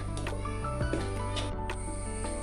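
A kitchen mixer grinder runs continuously on wheat flour for Kerala puttu, giving a loud, close, buzzing motor whine with a shifting hiss as the flour is ground.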